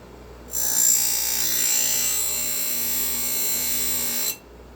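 A CBN grinding wheel sharpens a chainsaw chain tooth in a square jig, giving a steady, piercing high whine that starts abruptly, holds for about four seconds and cuts off sharply.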